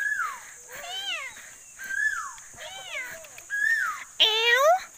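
Repeated high, sliding meow-like calls come in short bursts, several in a row, with quiet voices between; it may be a person imitating a cat.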